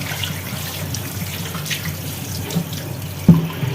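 Tap water runs steadily into a sink as a new stone mortar is rinsed under it, a continuous close splashing flow with one brief knock near the end.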